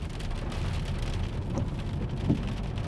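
Steady rain patters on a car while driving, a dense even hiss with a few louder drops, heard alone with no talk.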